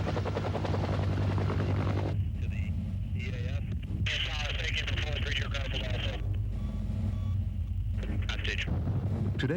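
A Marine Cobra attack helicopter's rotor thumps steadily under continuous talk from a radio-like voice, its drone constant throughout.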